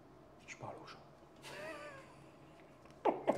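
A cat meows several times, with drawn-out, rising and falling cries spread across the moment. The cries are fairly close, over quiet room background, with a louder burst near the end.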